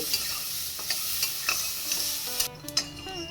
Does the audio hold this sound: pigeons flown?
no